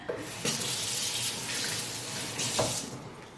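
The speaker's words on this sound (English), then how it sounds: "I'm gonna wash my hands." Tap water runs into a sink with splashing bursts as hands move under the stream, close and fairly quiet, no talking.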